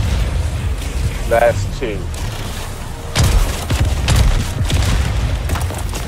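Heavy booms and rumbling blasts from grenades destroying targets in the Helldivers 2 video game, sustained loud explosive roar under brief voices talking.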